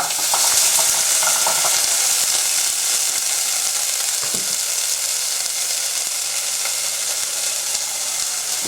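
Cauliflower and chickpeas fry in a pan for an Indian-style dish, giving a loud, continuous sizzle with a few soft stirring scrapes.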